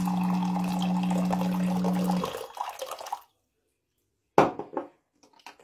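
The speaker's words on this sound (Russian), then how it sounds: "набираем водичку чуть-чуть из-под крана." Tap water runs from a kitchen faucet into a glass, a steady splashing rush with a rising tone that stops after about two seconds and then fades out. A few brief clinks and knocks follow after a silence.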